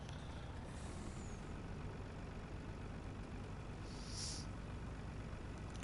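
A truck idles in a farming video game, a steady low engine rumble with a brief hiss of air brakes near the end, constant and moderately loud.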